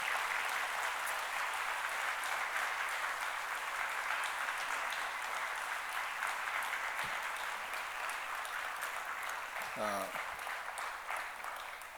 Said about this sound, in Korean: 목사님 나오실 때 우리 박수로 환영하겠습니다